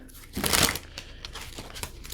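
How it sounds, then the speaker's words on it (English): A short burst of oracle cards being shuffled, a quick papery riffle, followed by faint soft flicks and rustling. "One more shuffle here."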